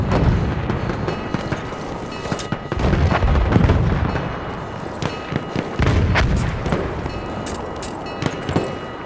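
Battlefield 1 Rush match with booming grenade explosions and gunfire, heavy rumbling blasts and cracking shots layered in a loud, dense battle din.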